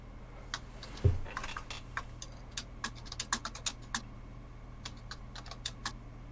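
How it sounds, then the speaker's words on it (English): Fingers tap a computer keyboard in a soft, uneven patter of light clicks, near and steady, with a single louder thump early on and no voices. "Are you typing it?"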